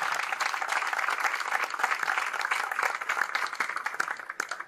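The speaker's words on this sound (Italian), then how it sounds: "A loro e agli sponsor istituzionali chiederei un grosso applauso" Dense, sustained applause from a crowd at the inauguration of the 63rd Ceramics Exhibition in Castellamonte, honouring organizers and institutional sponsors; loud, steady, continuous hand clapping with no voices over it, tapering slightly at the end.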